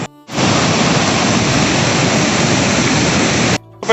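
A waterfall pours in a constant, loud, even rush of white water. The sound cuts in abruptly and stops just as suddenly, with no other sounds over it.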